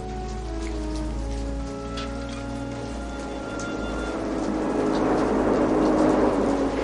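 Heavy rain pours steadily on a dark night outdoors, a dense continuous hiss with a low rumble that grows louder toward the end, with no voices.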